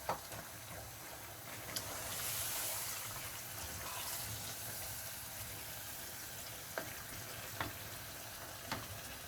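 Canned tomatoes and chicken sizzle softly in a pan for chicken biryani, with a faint steady fry broken by a few light spoon taps as the mixture is stirred.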